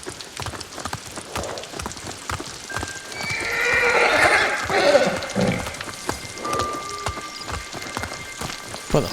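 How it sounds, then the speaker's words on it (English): Horses in Ghost of Tsushima neighing loudly in the rain, a long whinny rising over steady rainfall, with hooves clip-clopping throughout. "Well, the horses aren't happy."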